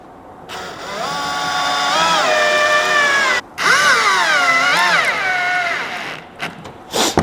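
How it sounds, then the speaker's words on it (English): A power drill drives screws into drawer slide brackets, whirring steadily for a few seconds, dropping out briefly, then spinning up again, loud and close, with a short clatter at the end. "I'm gonna screw them right in."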